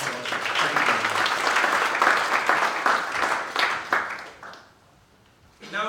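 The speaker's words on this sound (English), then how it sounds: "I would once more request you to put your hands together to applaud Dr. Oschmann." Audience at the UNESCO Merck Africa Research Summit applauding, a full round of steady clapping that tapers off after about four seconds into quiet before a voice begins speaking.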